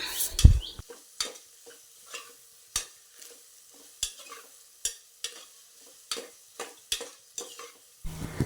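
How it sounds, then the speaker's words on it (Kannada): Thinly sliced onion frying in a pan while being stirred, a soft background sizzle broken by a regular series of sharp scraping strokes roughly every second, close by, with no talk. "ಇದನ್ನು ಸಹ ಚೆನ್ನಾಗಿ ಮಿಕ್ಸ್ ಮಾಡಿಕೊಂಡು ಫ್ರೈ ಮಾಡ್ಕೊಳ್ಬೇಕು ಸ್ವಲ್ಪ ಹೊತ್ತು"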